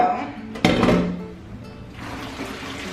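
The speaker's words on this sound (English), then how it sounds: "Now we're going to rinse them with cold water." Cold tap water pours and splashes over cut nopales cactus pads in a kitchen, with a clatter as the pan or colander is set down, then a steady soft rush of running water.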